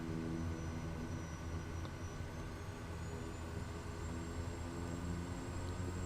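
Kodiak 100 turboprop at high idle in Microsoft Flight Simulator, a steady, continuous engine drone with a low rumble and a faint high whine, holding the same loudness throughout with no voices.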